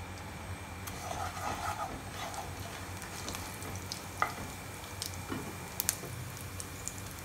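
Dry red chillies and cumin seeds sizzling in hot oil, a steady soft crackle with a few sharper pops standing out, fairly quiet and with no voices.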